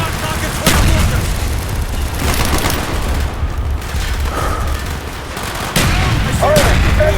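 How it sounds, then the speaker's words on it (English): Mortar rounds and gunfire in a battle in the video game Call of Duty Black Ops: heavy, sustained bursts of shooting with several sharp booming impacts standing out over the din, loud and near throughout. "Firing mortar!"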